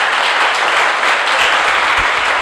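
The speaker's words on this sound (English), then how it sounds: "So let's clap for them once again." Dense, loud audience applause at a mental health session, continuous and even throughout the short stretch with no talk over it.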